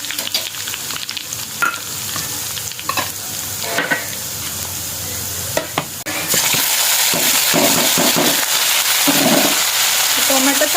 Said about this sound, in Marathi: इथं टोमॅटो छान परतलाय आहे